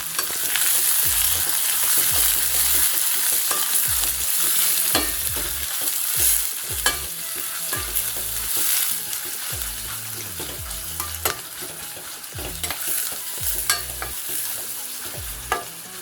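Onions and two green chillies frying in a pan with fennel seeds for a tiger prawn gravy, continuous sizzling broken by regular clanking stir strokes, close and clear with no talking.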